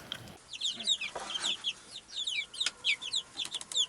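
Chickens at a backyard coop, with bursts of short, bright clucks and squawks from several birds overlapping in quick, uneven runs, fairly close by and with no talking.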